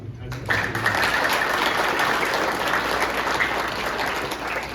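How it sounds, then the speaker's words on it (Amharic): A hall audience at an Adwa Victory Day celebration breaks into loud, sustained applause that starts abruptly and holds steady as a dense wash of clapping, with a faint voice just before it begins. "አንድ ጊዜ ሞቅ አድርጋችሁ ታጨብጭቡ።"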